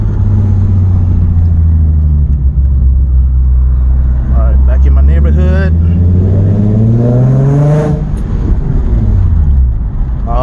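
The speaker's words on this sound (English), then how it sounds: "I love that VQ sound." A Nissan 350Z's VQ engine drones loudly through its exhaust while driving, deep steady tones rising and falling as it revs and shifts, with wind noise throughout and someone speaking briefly over it.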